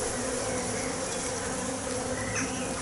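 Honey bees buzz in a steady, dense hum at an open hive during an inspection, filling the whole moment evenly with no speech.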